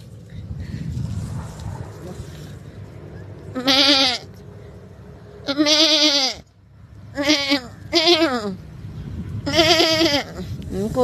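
A goat gives a series of loud, wavering bleats, about five calls in irregular bursts, over a low rumbling background.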